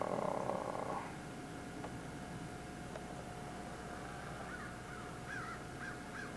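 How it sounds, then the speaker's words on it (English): Crows caw in the distance on a snowy morning after the 1994 blizzard, a few harsh calls repeating in the second half over a steady, low background hiss, with no one talking. "Can you hear those crows?"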